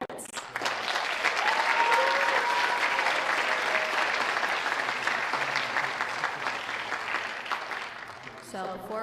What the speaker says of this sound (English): can I get one more round of applause for our graduates?